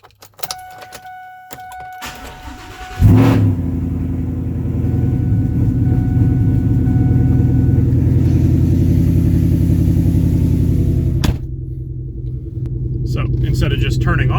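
A truck engine cranks and catches, then settles into a loud, steady low rumble that idles on for several seconds, with small clicks and a brief dip late on before the running hum resumes.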